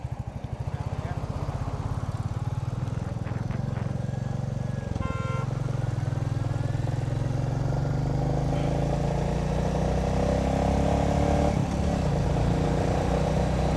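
Motorcycle ridden around Chakdaha near the old Roybari, its engine droning loud and close without a break, a short horn-like tone sounding partway through.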